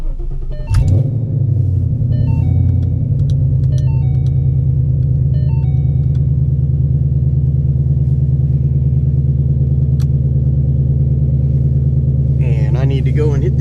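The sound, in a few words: Ford Mustang engine starting and rumbling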